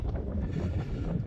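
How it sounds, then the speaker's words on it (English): Wind gusts roar and buffet the microphone on a misty descent from Corn Du in the Brecon Beacons, a low continuous rumble across the whole moment. "It's windy, still no visibility."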